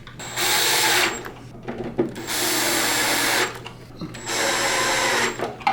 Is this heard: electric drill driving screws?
yes